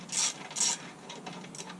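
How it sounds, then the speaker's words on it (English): A ratchet tightens bolts back onto a Power Performance lawnmower, with two loud, close ratcheting bursts followed by softer, quicker clicks in a quiet setting. "put all my bolts back in."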